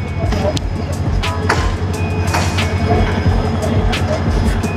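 The Cox's Bazar Express passenger train stands at Chittagong railway station for an engine change, with a loud, steady platform rumble, clanks and sharp metallic clicks, and voices mixed in.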